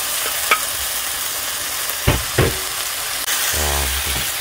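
Green chili peppers with garlic stir-frying in a pan: a soft background sizzle broken by a few sharp clanks and spatula scrapes, then a louder rattling stir near the end, close by with no talking.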